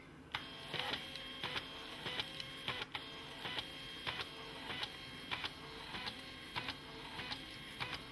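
A Canon BJC-50v portable inkjet printer at work: steady mechanical whir of the print head carriage, punctuated by regular clicking ticks about every half second, close and fairly quiet with no voices.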